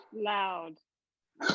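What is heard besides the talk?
dog barking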